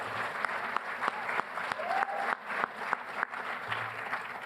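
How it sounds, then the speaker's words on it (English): Audience applause at a winter sports varsity awards ceremony, steady clapping from a crowd with sharper individual claps standing out, moderately loud throughout. "So again, a round of applause for Ms. Kira Palizzi."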